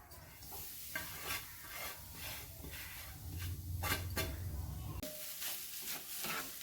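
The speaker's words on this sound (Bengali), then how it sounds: "প্রথমে এই নারকেলগুলোকে শুকনো কড়াইয়ে ভেজে নিতে হবে" Coconut pieces dry-roast in a dry wok (kadai) over low heat, stirred with repeated scraping strokes over a soft, continuous sizzle-like hiss, close and fairly quiet.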